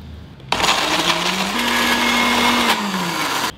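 A blender grinds seasoning ingredients for fried somay with oil. The motor runs loud and steady for about three seconds, with the pitch rising once it gets going, and then it stops abruptly.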